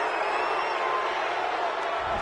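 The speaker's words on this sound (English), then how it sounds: "This home crowd, they're happy with that call." Home crowd in a video game football match cheering a call, a dense, steady roar of stadium noise holding at even loudness throughout.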